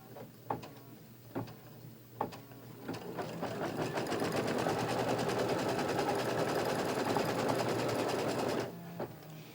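A sewing machine stitches quilt block pieces, starting with a few separate clunks and then running into a steady, close rattling hum for several seconds before stopping with a final couple of clicks.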